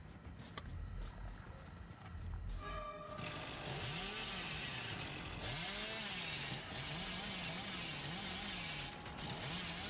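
Revving chainsaw of the Billy killer in the Dead by Daylight video game, a loud continuous motor whine with repeated rising and falling pitch sweeps over a busy game soundscape, with brief clanks early on.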